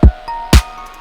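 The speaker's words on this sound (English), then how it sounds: "I got a kick and a snare happening at the same time." Hip hop drum beat programmed in Logic Pro X with a kick and snare struck together: two loud punchy combined hits about half a second apart, with a softer hit between and a faint sustained tone underneath.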